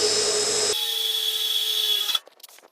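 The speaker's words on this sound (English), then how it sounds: "So I'm going to start with a 1/4 inch drill bit." A drill spins a 1/4 inch bit through metal, boring pilot holes for plug welds on a Chevy Viking 60 truck build. It runs loud and steady for about two seconds, then stops, leaving faint clicks.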